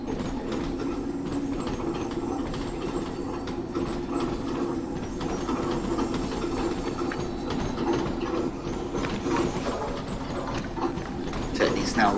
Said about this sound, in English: There's already a train coming down.